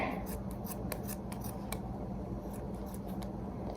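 Scissors snip through a sock being made into a rice-filled gnome, a run of quick, close, crisp cuts at a steady rhythm over a quiet room.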